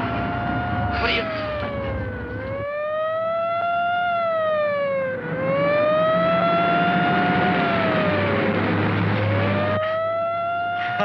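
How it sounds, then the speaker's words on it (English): An ambulance siren in a 1957 film wails loudly and close, its pitch sweeping up and down in long, repeating cycles over traffic rumble. "A stinking lousy ambulance."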